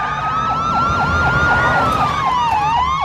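A police siren in Call of Duty Modern Warfare 2, loud and close, with a rapid warbling wail that continues steadily and slides downward slightly toward the end.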